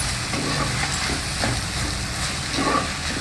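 Cabbage and chana dal being stirred with turmeric and salt in a hot pan, a continuous close sizzle with soft scraping stirs throughout, no talking.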